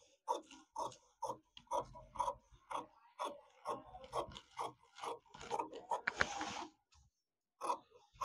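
Scissors cut along the border of a silk saree in quick, repeated rasping snips, close and fairly quiet, with brief pauses between strokes.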